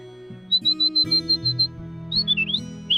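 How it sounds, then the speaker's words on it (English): Loud, repeated bird squawks in the video game Nusantara: Legend of the Winged Ones come in a rapid series of short calls, then a few rising and falling cries over a low synthetic background tone. "Birds are really loud."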